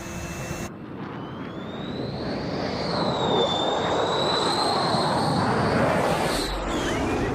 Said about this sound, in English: Otter 1 is clear to land, runway 21 right.